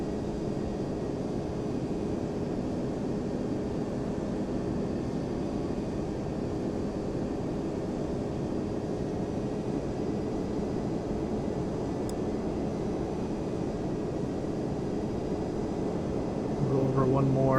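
A Boeing 767-300 airliner in FSX taxis and turns with a steady, even engine drone that holds at one level throughout, rising slightly at the very end.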